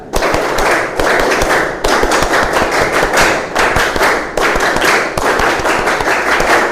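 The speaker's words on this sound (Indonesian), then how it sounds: "kita ice breakingnya tepuk pramuka saja 2 kali" A class performs the rhythmic Indonesian scout clap (tepuk pramuka) twice in unison, a loud, dense pattern of sharp group claps and thumps in quick patterned bursts, with brief pauses between phrases.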